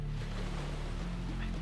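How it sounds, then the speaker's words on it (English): Choppy ocean waves churn and wash below a cliff in a continuous, loud roar of surf and rushing water mixed with wind noise, with no clear breaks. "Then he looks down at the chopping waves below."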